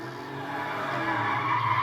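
Car tires skid and squeal in a GTA driving game while the car is driven as if drunk, a steady sustained screech rising slightly in intensity, fairly loud, with no talk over it.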